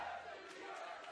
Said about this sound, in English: It's a crowd war. It's a cheering contest back and forth.